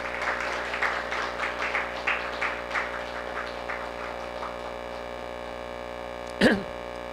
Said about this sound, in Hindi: फिर से तालियां हो